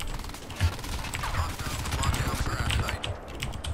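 Rattling volleys of gunfire from the Crysis 3 beta, moderately loud and near, with a chattering rapid rhythm and a voice speaking faintly underneath.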